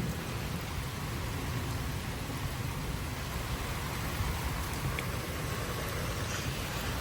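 A severe thunderstorm in Frisco, Texas, brings a constant roar of wind-driven rain, a dense, even hiss that stays loud and unbroken with no talking.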